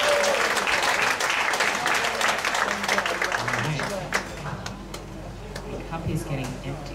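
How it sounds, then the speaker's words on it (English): An audience at a university poetry slam held in a bar claps loudly and densely for about four seconds, then the applause thins out while a host's voice continues over the fading claps. "Round of applause for Michael."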